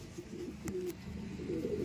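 Pigeons at a loft in Tagudin, Ilocos Sur coo faintly in low, murmuring phrases against a steady outdoor background, with no voices present.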